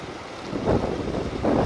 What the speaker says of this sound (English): The wind being very challenging, blowing some of it away.